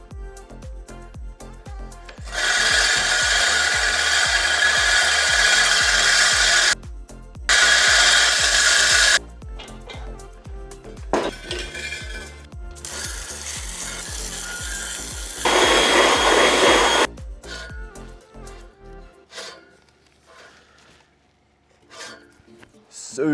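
A reel mower backlapped with lapping paste, its blades spinning in long grinding, rasping bursts that start and stop several times, with pauses and a quieter stretch near the end.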